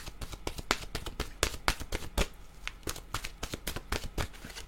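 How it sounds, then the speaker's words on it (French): A deck of tarot cards is shuffled by hand in a quick run of crisp, riffling slaps and taps, close and fairly loud, with no talking over it. "je vais mélanger les cartes"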